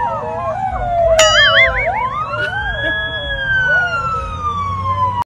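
A loud ambulance-style siren wails, rising and falling in sweeping tones with a steady high whine over street background, close and continuous throughout.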